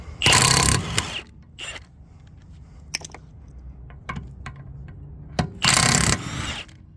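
A ratchet works lug nuts loose on a 2017 Volkswagen Jetta, with two loud bursts of rapid ratcheting clicks at the start and end and scattered sharp metallic clicks and clunks between them.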